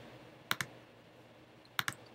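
Two quick pairs of crisp computer mouse clicks, close and sharp, separated by a short quiet pause, with no talk and only faint room hiss between them.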